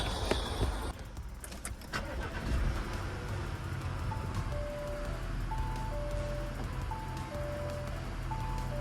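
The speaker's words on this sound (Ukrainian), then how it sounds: "Запустимо автомобіль." An Audi A4 engine cranks and starts with a burst, then settles into a low steady idle while soft electronic chimes beep repeatedly in the cabin.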